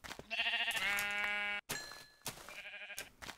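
Brown sheep bleating in a video game, several loud wavering bleats with game chimes between them and no talk.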